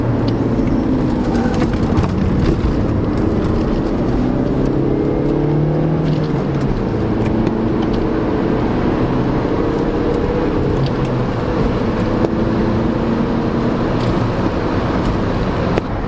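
Inside a 1990s Audi A3 1.8 turbo on the move, a steady engine drone and road rumble hold at a constant level, with engine tones slowly rising and falling for the full sixteen seconds.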